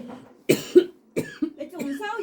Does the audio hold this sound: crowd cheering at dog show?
no